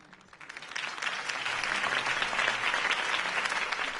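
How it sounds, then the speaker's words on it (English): A crowd applauds after a campaign speech in the Telltale Batman video game, steady dense clapping that swells in the first second and holds loud and continuous, with no talk over it. "could have heard that applause"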